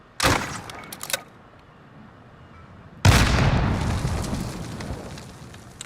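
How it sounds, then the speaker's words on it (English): A spawn tube launcher fired in Modern Warfare, a sharp launch burst followed after a short pause by a loud, rolling blast that trails off over several seconds. "once you have this lined up, you just shoot like so"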